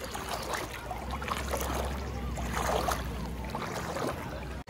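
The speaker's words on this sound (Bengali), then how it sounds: "এখানে দেখতেই পাচ্ছেন আপনারা অনেক স্রোত জলের" Floodwater in Dullabcherra pours in a strong current across a main road, a continuous rushing wash heard close and fairly loud with a low steady rumble.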